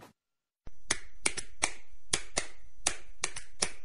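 Fan Hands, a handheld sports fan accessory, clacks out a series of about eight sharp, crisp claps at a steady rhythm, loud and close after a brief silence.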